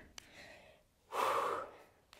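Breathing during an Animal Flow exercise: a faint inhale, then a louder, forceful exhale lasting about half a second, close to the microphone, with a couple of small clicks.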